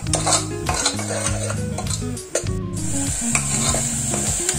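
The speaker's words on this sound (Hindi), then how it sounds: "आता हे जे आहे आपल्याला छान परतून घ्यायचंय तेल सुटेपर्यंत" Raw masala sautéing in oil in a pan for a white bean masala bhaji, a steady close sizzle with continual spoon stirring and scraping, over background music throughout.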